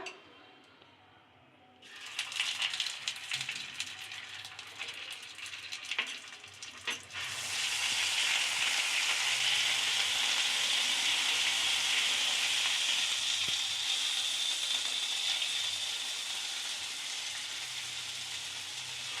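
Ginger paste sizzles loudly in hot oil with tempering spices and asafoetida, starting with a sharp burst after a quiet moment and settling into a steady, bright crackle close to the pan, with a few stirring clinks.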